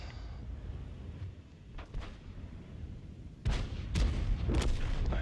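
Tank cannon fire in the video game World of Tanks, a few heavy booming shots with sharp reports and rumbling tails, the loudest bursts coming late, over low engine rumble.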